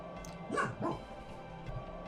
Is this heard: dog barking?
yes